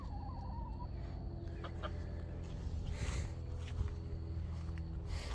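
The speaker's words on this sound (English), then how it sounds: "The bantams are doing well in here." Bantam chickens clucking softly in a small homestead coop, a few faint calls over a steady low background hum, no voices.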